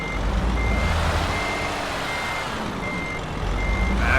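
Truck reversing in Euro Truck Simulator 2, with evenly spaced electronic backup beeps sounding over a loud, steady diesel engine rumble, no voices present.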